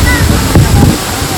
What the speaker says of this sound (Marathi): त्यानंतर हा धबधबा दिसला आम्हाला.